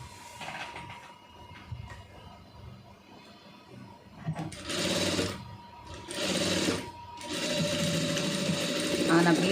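An electric sewing machine stitches an Aari blouse, running in several bursts of rapid mechanical whirring that grow louder and longer toward the end, with speech heard around them.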